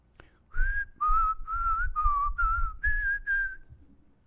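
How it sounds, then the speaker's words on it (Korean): Someone whistles a hymn tune, close and clear, in about seven sustained, slightly wavering notes with no talking over it. "자기가 휘파람으로 찬송가를 불렀다는 겁니다"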